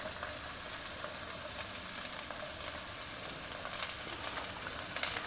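Chopped snake gourd sizzles steadily in a hot pan while cooking a South Indian poriyal, a soft, even hiss of frying that carries on without a break and with no voices.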